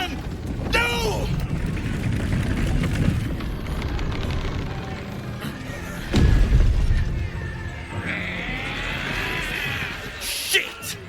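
Deep cannon booms from the Baldur's Gate 3 video game land amid rumbling battle noise, one heavy blast standing out midway. Shouting voices run over much of it.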